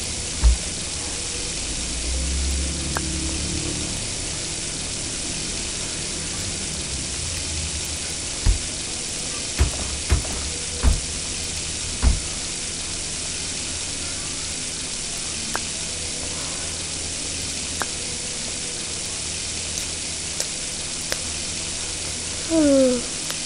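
Cooking sizzle in the Avatar World mobile game, a steady broadband frying hiss that runs the whole time, with scattered clicks and taps from tapping the screen, plus a brief chirpy effect near the end.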